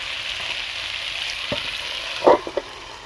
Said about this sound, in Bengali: অল্প অল্প আঁচে এভাবে কষাতে থাকতে হবে